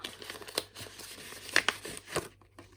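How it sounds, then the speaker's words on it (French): Several sharp crackling rips of adhesive tape being torn and pressed to close a budget envelope come in short bursts close by with no talking. "Et je rajoute un petit scotch pour fermer."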